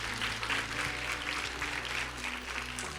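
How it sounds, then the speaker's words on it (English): An audience gives a talk's participants a round of applause, dense continuous clapping that holds steady and loud for the whole stretch. "just give a round of applause for everyone again"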